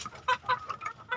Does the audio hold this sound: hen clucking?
yes